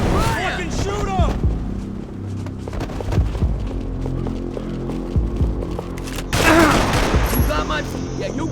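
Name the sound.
gunfire in the video game Max Payne 3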